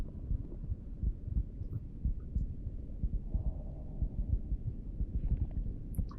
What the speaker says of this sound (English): You could feel his heart beating out of his chest.